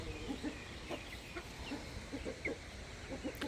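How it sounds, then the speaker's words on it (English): Blue rock and barred rock chickens and roosters cluck and squawk in scattered, agitated bursts at close range on a backyard farm, with a steady outdoor hiss underneath and no talking. "the roosters are angry with each other"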